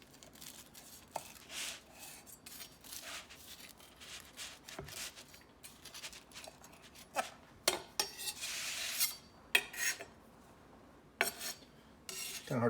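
A big knife cutting a quesadilla into eight pieces, sporadic close crunching slices and clicks of the blade on the board, quiet between cuts, with no talking.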